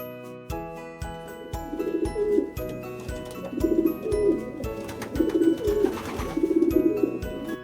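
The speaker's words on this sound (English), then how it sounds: "Rock pigeon." Rock pigeon cooing in repeated low, throaty phrases, four rolling coos spaced evenly over soft background tones, close and moderately loud.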